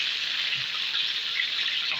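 Chicken thighs fry in hot fat in a pan, giving a steady, close, even sizzle with no break.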